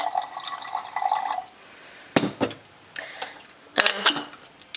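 Water trickles in short bursts as it is poured into a coffee maker to brew cappuccino, near and fairly faint, with brief splashy pulses.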